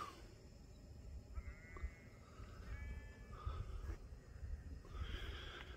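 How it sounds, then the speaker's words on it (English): Sheep bleat in an open field at a wild campsite, several wavering calls spread out and fairly distant over a steady windy outdoor rumble, with no talking. "We've got farmer out in his field running round with sheep."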